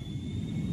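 A brief, steady jet engine roar with a thin high whine above it, continuous and moderately loud.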